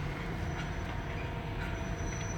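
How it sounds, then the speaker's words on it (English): A train rolls past close by as a loud, steady rumble with a metallic wheel clatter, lasting throughout with no pauses. "It's the train, man."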